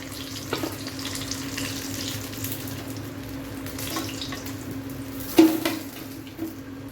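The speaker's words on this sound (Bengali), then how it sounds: "এখন আমি আস্তে আস্তে করে একটা একটা করে ভেজে নেব" Paneer spring rolls deep frying in oil, a low steady bubbling sizzle with a couple of sharp clinks from utensils against the pan, one louder knock partway through.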